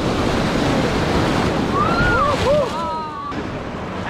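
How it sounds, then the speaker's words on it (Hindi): River rapids roar during a whitewater rafting trip in Rishikesh. Loud, steady rushing water and wind buffeting fill the whole stretch, with a brief high call rising over it midway. "ये हमारा बस रैपिड आ रहा है, इस रैपिड को बोलेंगे रिटर्न टू सेंटर"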